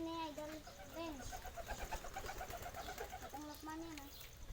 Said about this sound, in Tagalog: Yan ang mga kalapati natin.